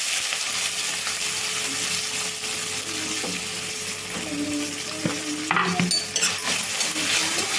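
Onion pieces and curry leaves fry in hot oil in a pan, a continuous close sizzle with occasional metal clinks and scrapes of a spoon against the pan, and no talking.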